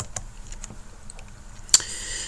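A few scattered, light keystrokes on a computer keyboard, quiet and close, ending in one sharper key press, with no voices.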